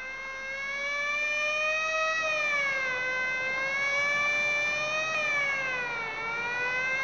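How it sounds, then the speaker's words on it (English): A police car siren wails steadily and loudly, rising and falling in slow sweeping cycles close by, with no voices over it. "Unnecessary use of that siren"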